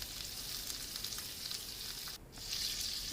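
Eggplant sizzles in oil on a grill pan, a steady hissing crackle throughout with a brief dip near the end before the hiss swells again, close and alone.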